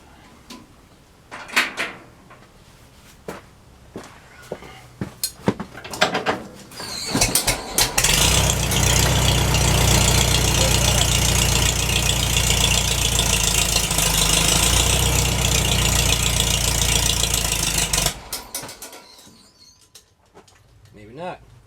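A McCormick Deering W-4 tractor being crank-started in spring: a few knocks and sputters build into a loud, steady engine roar for about ten seconds, then it dies away, with pigeons cooing and people talking nearby.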